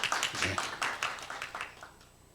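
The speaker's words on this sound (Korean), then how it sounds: "큰 박수를 부탁드리겠습니다." An audience at a book launch event applauds, a short burst of scattered clapping at moderate distance that thins out and fades away within about two seconds.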